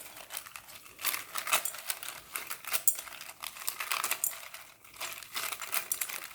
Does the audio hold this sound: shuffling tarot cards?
yes